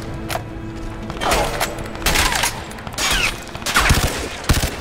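Rapid bursts of gunfire from a weapon in the video game Crysis 3, firing in repeated volleys with heavy thuds and booms, loud and close over a busy combat background.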